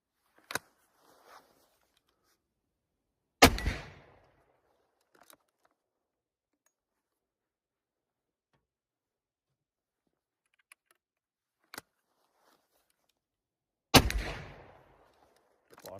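A .357 revolver fires at a steel plate in sharp, widely spaced single shots, each a loud crack trailed by a short ringing decay, with faint clicks and quiet stretches in between.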